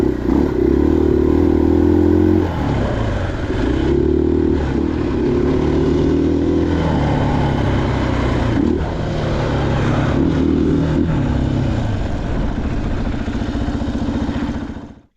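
A 2023 KTM 500 EXC-F dirt bike fitted with a Graves exhaust, ridden on a road, gives a loud, close engine drone that rises and falls steadily as it runs through the gears.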